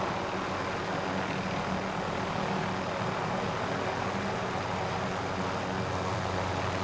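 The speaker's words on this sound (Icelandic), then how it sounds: "Helicopter here." Helicopter rotor and engine drone from Call of Duty Warzone, a steady, dense broadband roar with low thumping holding constant and close throughout, with no talk.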